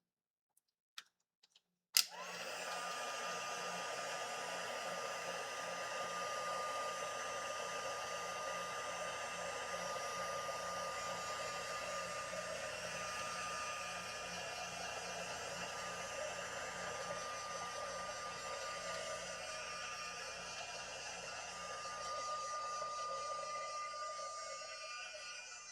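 A heat tool blows to dry dip-dyed hair, starting with a click and then a steady, close, loud whooshing hum that runs unbroken for over twenty seconds.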